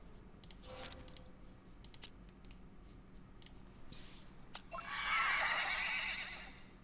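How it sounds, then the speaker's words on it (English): A distorted, drawn-out horse-like neigh from the horror game Hermitage: Strange Case Files rises into a loud, noisy burst near the end, preceded by scattered clicks and faint background tones. "It sounds a bit like a horse's neigh, but more drawn out and distorted."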